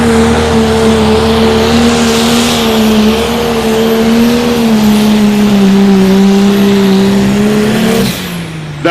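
A light super stock pulling tractor, a white machine from Lebanon, Missouri, roars loudly and steadily up close at the Missouri State Fair outlaw pull, holding a sustained high-pitched engine drone before the pitch drops abruptly near the end.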